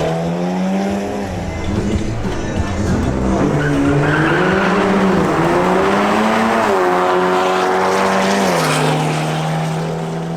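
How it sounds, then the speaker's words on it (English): A BMW M240i and an Audi S3 run side by side in a drag race, their engines loud and close, howling up through the gears with rising and falling pitch. Tires squeal at the launch. "Next, we have a duel between Andres Sepulveda's BMW M240i and Jean-Paul Pugliese's Audi S3."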